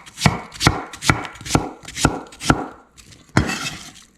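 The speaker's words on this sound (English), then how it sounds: "I'm cutting these into roughly, 1 centimeter thick" A knife slicing apples into thick slices for apple crisp, seven crisp chops striking a cutting board at a steady, unhurried rhythm, close and clear with no talking.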